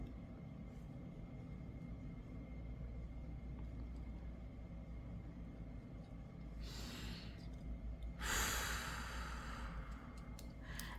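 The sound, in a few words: slow deep breathing in and out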